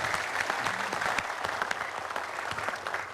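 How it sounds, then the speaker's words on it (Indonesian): Audience applause at a televised candidate debate studio, a short burst of steady, dense clapping from a crowd with a few sharper claps standing out. "Kita berikan tepuk tangan Arswendo Atmowiloto."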